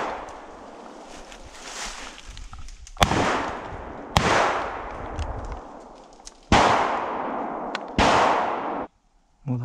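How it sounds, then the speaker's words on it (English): Shotgun blasts ring out during a deer hunt in Iowa, several loud sharp reports spaced a second or more apart, each with a long echoing decay across open country. "The doe right here, across, she shot once. She shot again, waited."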